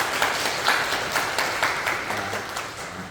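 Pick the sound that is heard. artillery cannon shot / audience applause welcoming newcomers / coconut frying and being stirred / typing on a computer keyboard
audience applause welcoming newcomers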